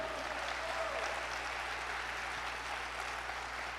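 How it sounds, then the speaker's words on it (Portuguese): Church congregation applauding at a worship service, a steady wash of clapping that stays fairly even and moderately distant throughout, with a low hum beneath and no clear voice on top. "Dá um aplauso para a grandeza dEle."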